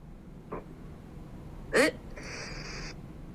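An AI-generated voice produces a single sharp imitation hiccup, a brief loud burst standing alone against a quiet background, followed by a short airy sound.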